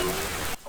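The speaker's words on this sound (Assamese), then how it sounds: "বৰষুণত টিক থাকিব নোৱাৰো দেই" Steady rain hissing on a surface for a brief moment, constant and fairly soft, cutting off abruptly near the end.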